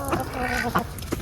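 Several roosters squabble on a farm, with overlapping clucks and short squawks in a busy, fairly close cluster that carries on without a pause.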